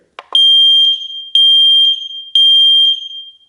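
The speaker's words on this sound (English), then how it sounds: "if it detects smoke, this is what you're going to hear" A couple of clicks, then a piercing high-pitched alarm from an X-Sense 10-year battery photoelectric smoke detector sounds in three loud, evenly spaced beeps, close and alone.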